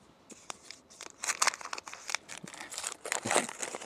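Paper packaging of a Nestlé Thai milk carton crinkles and crumples in quick, close, irregular bursts of rustling, growing busier toward the end.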